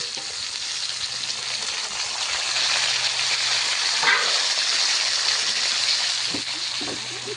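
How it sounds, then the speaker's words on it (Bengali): Onions fry in oil in a pan for a pumpkin chachchari with potato and beans, a steady close hiss of sizzling with a brief stir midway. "এবারে আরেকটু তেল দিয়ে পেঁয়াজ ভেজে নিচ্ছে"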